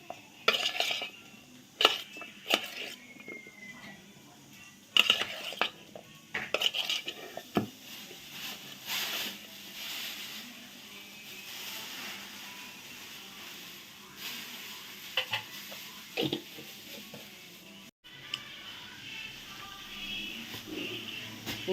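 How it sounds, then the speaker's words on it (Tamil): Ginger and garlic stirred into a frying pan while cooking yam fry, with repeated metal spoon clanks and scrapes against the pan over a faint low sizzle, close by and irregular, with no speech. "இஞ்சி பூண்டு கொஞ்சம் சேர்த்துக்கிறேங்க"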